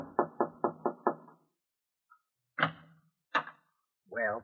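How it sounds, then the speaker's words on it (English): A series of five sharp, evenly spaced knocks on a door, close and loud, followed by a pause, a couple of heavier door thuds, and a short burst of voice at the end. "knock on the door"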